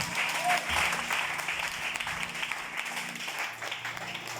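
A church congregation applauds during a worship service, a dense, sustained wash of clapping that holds steady throughout, moderately close, with faint voices mixed in.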